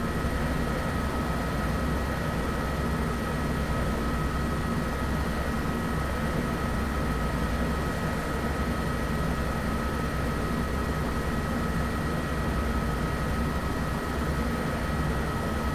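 A helicopter flies in Microsoft Flight Simulator 2024 over dense vegetation near Kruger, giving a steady, unbroken rotor and engine roar that stays constant throughout with no talk.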